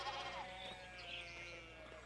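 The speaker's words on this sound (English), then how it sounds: "All the sheep are still blocking our path." Sheep bleat in the Pentiment video game, several overlapping calls at moderate volume over a steady background tone, with no speech.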